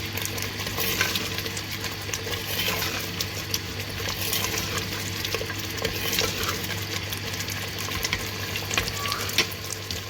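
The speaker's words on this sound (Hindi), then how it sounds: "गोश्त डालने के बाद हम इसकी भुनाई करेंगे अच्छी तरह से।" Mutton being browned for aloo gosht sizzles and crackles in a pot while it is stirred continuously, a dense close frying hiss with frequent scraping clicks over a steady low hum, and no one speaking.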